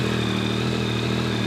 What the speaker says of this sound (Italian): Dobbiamo accendere la moto.